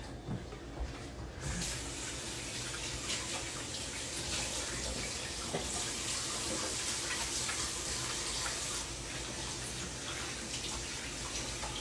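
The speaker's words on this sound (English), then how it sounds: "I'm going to rinse my hands off and I'll be right back." Hands rinsed under a running kitchen tap, a steady close rush of water splashing into a sink for several seconds, continuous with slight changes in flow.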